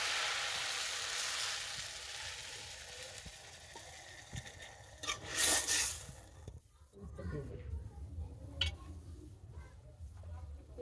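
Potatoes sizzling in a pan on a village kitchen stove, with a sharp hiss when water is poured in and then a softer bubbling simmer, all close by.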